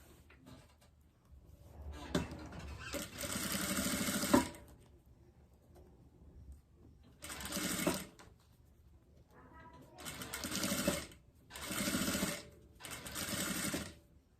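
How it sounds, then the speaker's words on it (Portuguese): A sewing machine stitches bias binding onto a fabric diaper holder in close, loud bursts: one long run, a short one, then three steady runs with pauses between, with faint handling noise in the gaps. "eu vou começar a costurar o meu viés do lado de trás pra frente"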